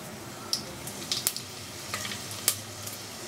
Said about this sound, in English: Now in a pressure cooker, add oil, and if you wish you can also add little ghee to this. Now add kasuri methi